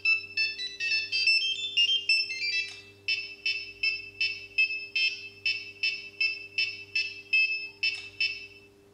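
An electronic buzzer on a small DIY robot beeps out a tinny melody, first a quick run of notes, then a steady series of evenly spaced repeated chirps.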